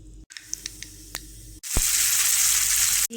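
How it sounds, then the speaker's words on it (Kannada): Mustard seeds, asafoetida and curry leaves hit hot ghee: a few sharp pops and taps over a low hiss, then a loud sustained sizzle swells up and holds. "ಹಾಗೆ ತುಪ್ಪ ಬಿಸಿ ಆದಮೇಲೆ ಅದಕ್ಕೆ ಸ್ವಲ್ಪ ಸಾಸಿವೆ ಮತ್ತು ಹಿಂಗನ್ನು ಕೂಡ ಹಾಕ್ಕೊಳ್ತಾ ಇದ್ದೀನಿ"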